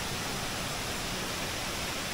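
A waterfall in Bali, heard as a loud, continuous broadband rush of falling water that stays steady and dense from start to finish, with no voices.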